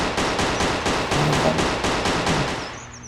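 Automatic gunfire in a video game shootout, a loud, sustained burst of rapid repeated shots at a steady rhythm that cuts off abruptly near the end, with no talk.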